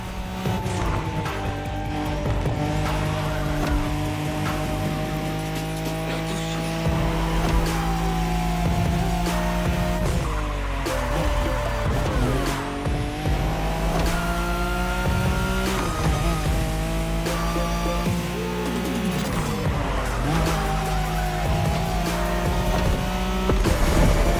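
A Nissan Skyline engine races in The Crew Motorfest, a loud continuous roar rising and falling through gear changes, with tire squeal and skids over steady high revs throughout.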